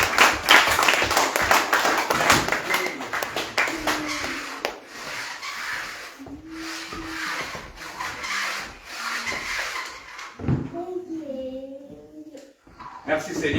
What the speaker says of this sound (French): Acclamons pour le Seigneur Jésus-Christ.